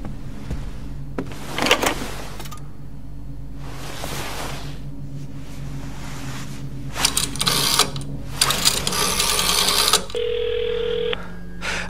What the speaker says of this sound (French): Téléphone en face.